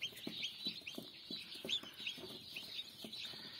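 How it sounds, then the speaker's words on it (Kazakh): Newly hatched chicks from a new incubator on a poultry farm cheep in rapid, overlapping high peeps, close and continuous, with soft clucking undertones and no talking. "Жаңа инкубаторымнан балапандар шығып бастады бүгін"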